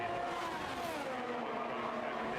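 Race cars lapping Imola in a racing video game, a steady loud blend of whining engine tones with no talk.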